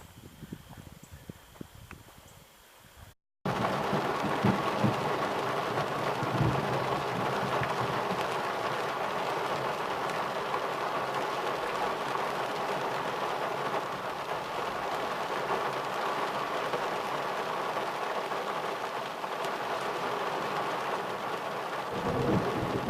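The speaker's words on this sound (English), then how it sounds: "I'm at the highest point of the forest with the lightning storm." A thunderstorm pours over a forest: after a brief quieter opening with scattered drips, a sudden steady roar of heavy rain takes over, with deep low rumbles of thunder rolling underneath throughout.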